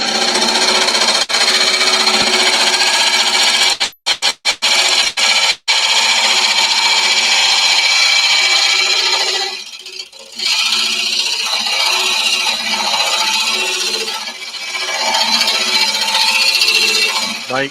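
A heavy Titan 2.5 kg power drill bores steadily through material with a 100mm bit, a loud continuous grinding roar with a few brief cut-outs and a dip midway.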